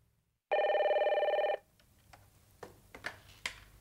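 An office telephone rings once, a loud electronic warble lasting about a second, followed by quiet clicks and faint handling noises as the receiver is picked up.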